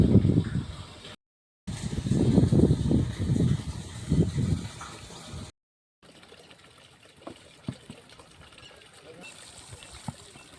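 Water gushes steadily into a drum at a rural spot in the Chitrakoot forest. A rushing, hissing flow follows a stretch of loud talk, with small clanks over the pour.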